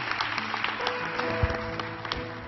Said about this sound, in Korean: 살아계신 하나님께 다시 한번 감사와 찬양의 박수 올려드리시겠습니다